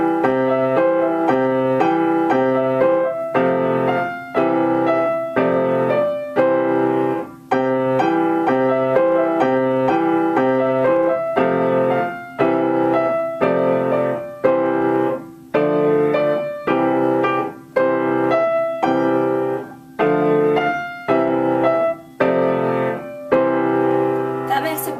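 Piano chord progression from a beginner chord lesson, played at speed in a steady rhythm of sustained chords, loud and close with no talking.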